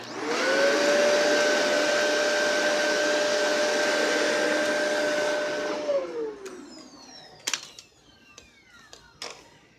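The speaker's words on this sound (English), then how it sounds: "So that way it's a canister vacuum, and I'll show you that the brush wheel is still powered." A Shark Rotator Powered Lift-Away canister vacuum cleaner runs with a loud steady whine, then winds down and stops, leaving scattered clicks and handling noises.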